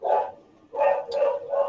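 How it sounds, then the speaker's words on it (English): Dogs bark in three loud, close bursts, with a short quiet gap after the first bark and the next two coming in quick succession. "That's my dogs actually."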